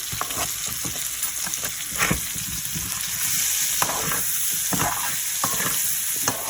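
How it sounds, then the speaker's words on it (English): Garlic sizzling in melted butter in a pan as it is stirred, a constant bright frying hiss with irregular scraping knocks from the utensil, close and steady. "after we get the garlic in there, what we gotta do is stir it"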